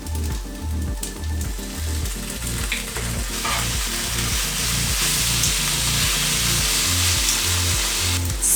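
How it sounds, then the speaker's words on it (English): Yakisoba noodles and cabbage sizzle loudly in a pan as yakisoba sauce goes in, a steady close frying hiss with a rapid rhythmic scraping of stirring underneath, no talking. "now I'm just going to be adding the yakisoba sauce"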